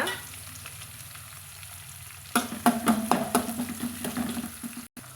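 Shallots, large dried chillies and curry leaves hit hot oil in a pan, bursting into loud crackling sizzle with sharp pops and stirring clatter after a quiet start, then a brief cut near the end.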